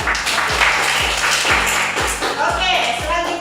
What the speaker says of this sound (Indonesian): tepuk tangan buat anak